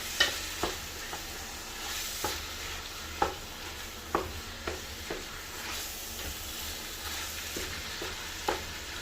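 Bolognese mince sizzles in a hot pan while a spoon stirs and breaks it up, its scrapes and taps landing in an irregular rhythm over steady frying hiss. The sound is close and moderately loud, with no talking.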